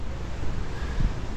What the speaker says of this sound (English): It is very, very windy